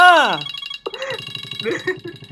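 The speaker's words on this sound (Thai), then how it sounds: "เห็นไหมอะพี่พูดอะโทรศัพท์ดังเลยเห็นไหม" A telephone ringing indoors with a melodic electronic ringtone, a sweeping tone and then repeated pulsing rings that are loud and close, with people talking over it.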